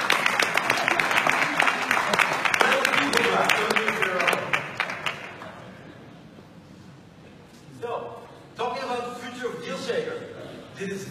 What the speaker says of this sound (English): Duncan, it doesn't count to be clapping for yourself.